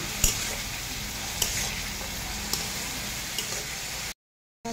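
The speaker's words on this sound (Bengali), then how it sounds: "ভালো করে এগুলো নেড়ে নেব।" Fried rice is stirred in a pan under a steady sizzle, with a few sharp spoon knocks spaced about a second apart before a brief cut to silence near the end.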